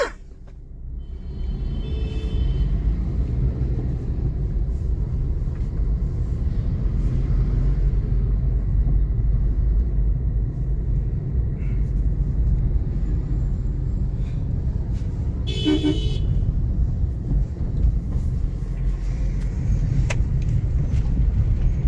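A Maruti Ciaz is driven after a clutch repair, its engine and road rumble filling the whole stretch as a steady, close drone with a brief rattling burst partway through; no one speaks.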